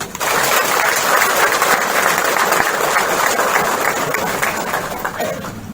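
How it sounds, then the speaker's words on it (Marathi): Audience applause after a video screening at an institute function, a thick, sustained roar of many hands clapping, loud and even for several seconds before tapering off at the end. "हा थक्क करणारा प्रवास पाहून उपस्थितांनी टाळ्यांचा कडकडाट केला"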